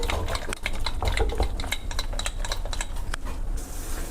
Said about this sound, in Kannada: ಪಾಲಕ್ಕೆಲ್ಲ ಚೆನ್ನಾಗಿ ಸ್ಮ್ಯಾಶ್ ಮಾಡ್ಕೊಳ್ಳಿ.